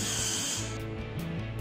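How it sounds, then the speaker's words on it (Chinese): Power screwdriver driving screws into T-nuts on an aluminium profile for an electric go-kart assembly, a short continuous whirring drive with ratcheting clicks near the end, close and moderately loud. "跟住落螺丝，塞咗依个就落螺丝啦"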